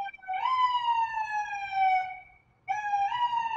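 A police-style siren wails outside a Brooklyn home, heard faintly through a window in two falling sweeps separated by a brief gap.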